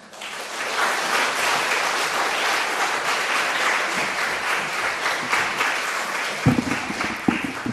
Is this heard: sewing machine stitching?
no